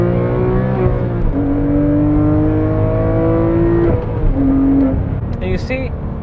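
A Porsche 911 997 GT3 engine rises in pitch as it revs on a downshift while driving, loud and close inside the car under a voice talking throughout.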